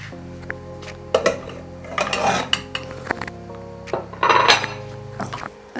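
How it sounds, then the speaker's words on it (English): A flat utensil scrapes and clanks against a metal sufuria pot while ugali is turned over, producing several close, irregular metallic knocks and scrapes over a low steady hum. "you use a flat surface to turn your ugali like this, and then you can return it on your sufuria"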